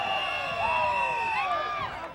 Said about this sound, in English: Crowd getting very fired up